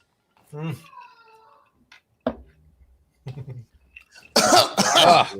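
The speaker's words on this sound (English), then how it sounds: "Oh my God, he coughed." A man coughs in a few separate bursts amid scattered quiet gaps, ending with a louder, rougher stretch of coughing or throat noise; people talk around it indoors.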